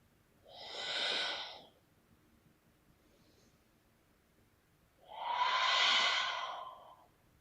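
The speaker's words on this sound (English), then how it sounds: "Let's take 3 more breaths." Slow, deep breaths during a floor-based hatha yoga pose, two long broadband exhalations a few seconds apart with quiet in between, close and moderately loud with no talking.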